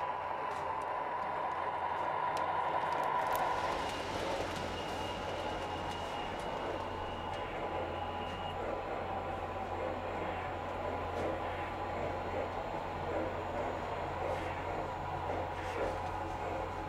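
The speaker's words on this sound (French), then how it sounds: "Pour varier les plaisirs, les trains peuvent emprunter différents parcours." O-scale model trains run on a layout in a private museum, giving a steady, moderately faint rumble and rail clatter with a low hum underneath.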